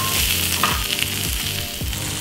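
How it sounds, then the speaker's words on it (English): Onions fry in oil on a hot grill plate, a steady loud close sizzle with faint stirring, no voices. "add a little bit more oil and then time to get in some onions"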